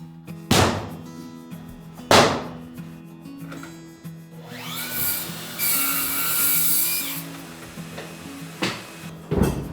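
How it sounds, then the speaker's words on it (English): Long Japanese cypress floorboards are cut with a saw, a rasping cut of a few seconds among several sharp wooden knocks and thumps as boards are handled, under a steady low hum. "I cut all the long floorboards that reach both ends of the room"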